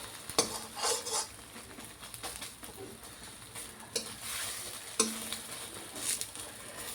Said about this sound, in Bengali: দেখো ডিম ভাজা হচ্ছে, ডিম ভাজা হচ্ছে।